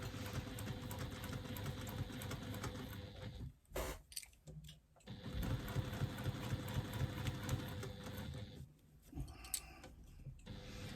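A sewing machine stitches a zipper seam in a steady fast mechanical whir, close and moderately loud, pausing briefly twice before running on.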